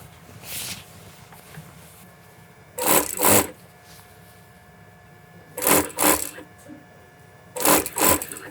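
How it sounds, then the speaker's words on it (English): A sewing machine top-stitches a second row of small stitches along a bespoke shirt yoke in a London shirt workshop, running in three loud separate bursts of about a second each, with quiet pauses between them. "then we'll sew the second row on a small stitch because it's a top stitch"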